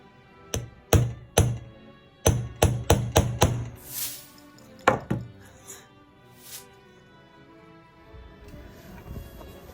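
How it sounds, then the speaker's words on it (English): Sharp hammer blows strike a hard wooden table in irregular bursts while making a Regency corset, several quick knocks in a row, with pauses and some scraping between. "Probably shouldn't be hammering on my table."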